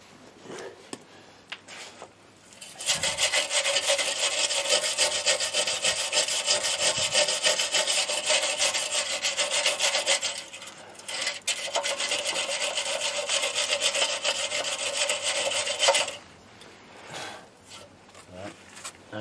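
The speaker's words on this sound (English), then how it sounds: "Sometimes you just can't get in with machine, so the hand brush it is." A hand wire brush scrubs the front bumper of a car in two long rapid back-and-forth bursts of harsh rasping, close and loud, with a short pause between them and quiet before and after.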